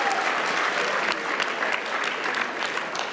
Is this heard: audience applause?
yes